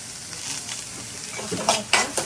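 Steady sizzle of garlic frying in tempering oil, with a few sharper crackles and stirring clinks near the end.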